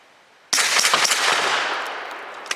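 A Grand Power Stribog fires a single Hornady Steel Match 125 grain round, a sharp loud crack whose echo rings out over about two seconds, followed by a small metallic click.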